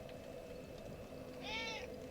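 A single drawn-out cat meow rises briefly over a steady low background hum, then fades.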